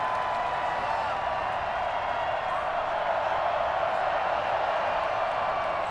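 Crowd in a football stadium in Madden 21 making a steady, dense roar of cheering that stays even throughout, with a commentator talking over it.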